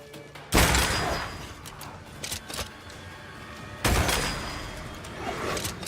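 Gunfire in Banishers: Ghosts of New Eden: two loud, sharp shots about three seconds apart, each followed by a decaying rumble, with a few smaller thuds between them.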